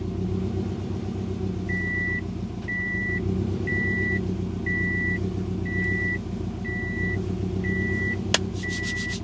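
A Mitsubishi Evo 8 under restoration after sitting abandoned idles with a steady, low rumbling hum. A faint electronic chime beeps in an even rhythm over it, with no talk.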